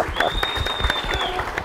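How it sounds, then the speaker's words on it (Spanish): Studio audience applause on a Paraguayan TV talk show set in a bar, brisk dense clapping from a crowd, loud and close, with a faint whistle above it. "¡Fuerte el aplauso, por favor!"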